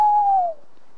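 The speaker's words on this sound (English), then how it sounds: "Oh, the old owls are out early, aren't they?" A single owl hoot sounds outdoors at dusk beside a caravan park in Cromer, Norfolk: one clear, steady tone that slides slightly downward and fades after about half a second, with quiet surroundings.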